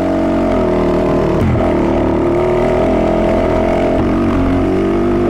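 A Fantic 450 Rally motorcycle engine drones loud and close while climbing uphill, a steady, continuous roar with little change in pitch throughout.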